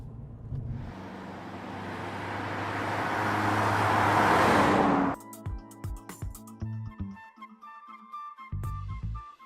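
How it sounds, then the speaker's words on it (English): A 2014 Mercedes-Benz CLA accelerates hard, its engine and road roar swelling louder for several seconds and then cutting off into a sparse, clicky interior ambience with short thumps. "wait for the transmission to gear down or do it manually, and then the car will take off"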